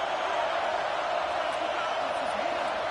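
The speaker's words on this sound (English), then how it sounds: "listen to this crowd noise" A packed stadium crowd in an NCAA college football game gives off a loud, steady roar that holds without a break, with a faint voice now and then above it.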